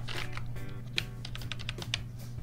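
Quick, close clicks of computer keyboard typing come in an uneven burst of keystrokes while a Minecraft command is entered, over a low steady hum.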